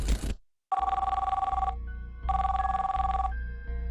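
A telephone rings for an incoming call: a short burst, a pause, then two long electronic ring bursts with brief gaps, loud and close, with no one speaking.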